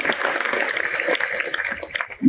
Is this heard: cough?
no